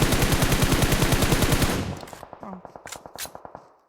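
Rapid automatic gunfire in PUBG, a loud, dense burst of evenly spaced shots that abruptly thins into quieter, distant-sounding rounds, with a brief spoken exclamation.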